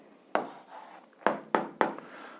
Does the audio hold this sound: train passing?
no